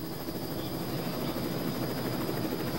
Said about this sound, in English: I know it's tough because you're in a helicopter